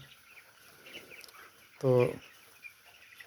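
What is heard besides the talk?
chickens clucking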